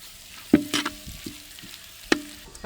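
Onions browning in sesame oil in a pan: soft sizzling under a few sharp clinks and scrapes of a spoon stirring, quiet and close, no speech.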